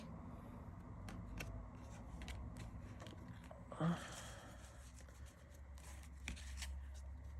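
Tarot cards being shuffled, a series of soft riffling and flicking sounds with light taps, close and fairly quiet, with no talking.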